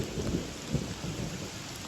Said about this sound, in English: Still some thunder, but hopefully it passes.